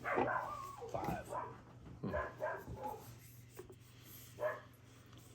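A dog barks at someone walking past outside the house, a few sharp, fairly close barks in short bursts, with people talking nearby.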